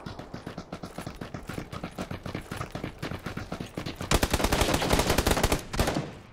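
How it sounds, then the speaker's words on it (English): Rapid bursts of gunfire in the battle royale game PUBG, loud and close, a steady rattle of shots that intensifies into a denser, louder volley toward the end. "I shot him twice."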